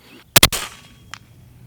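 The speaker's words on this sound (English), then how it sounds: "Subsonic ammunition now at 120 yards here." A single subsonic 300 Blackout rifle shot fired outdoors at a 120-yard target, a sharp loud crack followed by a brief echo and a faint distant report.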